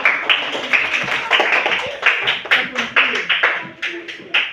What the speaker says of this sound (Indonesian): tepuk tangan dulu buat Alka